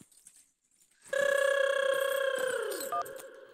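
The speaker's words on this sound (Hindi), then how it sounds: "फोन इतना काहे बज रहे आ रहे हैं भाई?" A telephone rings at home, a loud electronic trill with sustained tonal pitches that starts after a short quiet pause and continues steadily, heard alone without talk.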